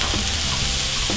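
Smashburger patties frying on a hot griddle give a steady, close, even sizzle with faint crackle, heard alone with no voices.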